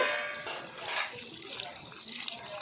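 Water is poured into bhajiya batter flour, a short, close splashing trickle with a brief louder gush at the start.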